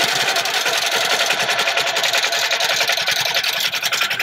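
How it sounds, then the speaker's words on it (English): A computerized quilting machine stitches a stipple design across a quilt, its needle chattering in a fast, steady, even rhythm that sounds close and fairly loud and carries on unbroken throughout, with no voices. "now I'm going to press go and watch it stitch"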